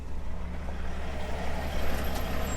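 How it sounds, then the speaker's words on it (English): A large truck rumbles in steadily at moderate distance on a farm, with a brief hiss near the end that could be an air brake. No one speaks. "Oh, here comes a truck."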